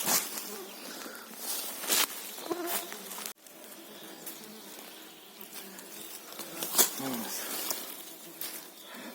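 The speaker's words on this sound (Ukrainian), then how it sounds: "комарів, правда, стільки, що фасу немає від них" Swarms of mosquitoes buzz in a hot summer forest, a dense continuous whine with closer insect passes flaring up, while people talk intermittently nearby.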